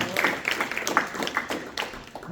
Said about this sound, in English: an applause for all our supporters, please